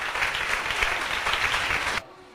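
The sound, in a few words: applause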